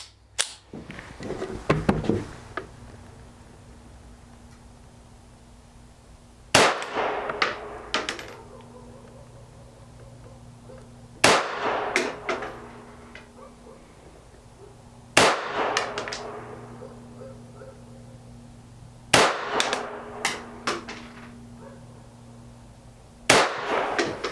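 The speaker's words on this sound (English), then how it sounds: "All right, just 5 rounds in it this time. We'll see how it does." A Ruger Mark I Target pistol fires five shots at an outdoor range, each a sharp close crack spaced several seconds apart, followed by a ringing tail and faint steady background hum.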